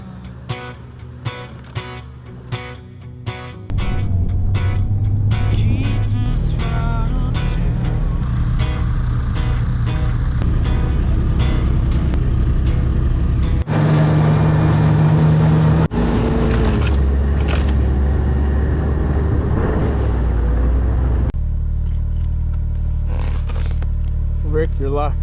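Snowmobile engines on a Cain's Quest race trail across Labrador roar at full throttle, a loud continuous motor drone with shifting pitch that begins a few seconds in and runs to the end, with people talking over it.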